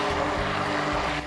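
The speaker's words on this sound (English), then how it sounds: "you just blend that to the consistency you want" A blender whirs through pumpkin soup in a steady, loud, close motor drone that holds evenly for just over a second with no voices.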